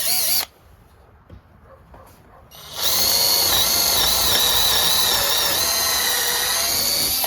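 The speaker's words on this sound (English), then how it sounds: "Let's try the drill now." A SCANS 16V 2.0Ah lithium-ion compact cordless drill starts with a brief whir, stops, then runs steadily at high speed with a loud, continuous whine until cutting off.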